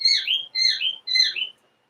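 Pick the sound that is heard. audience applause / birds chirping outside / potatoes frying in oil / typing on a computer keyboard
birds chirping outside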